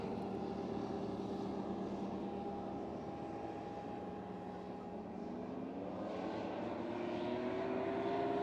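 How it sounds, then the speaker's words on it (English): The engine of a Formula 1 racing hovercraft at a paddock race meeting at Rother Valley. It gives a steady droning roar at moderate distance, rising in pitch toward the end as the throttle opens briefly. "So, Cy Francis there, just quick squirt of the throttle."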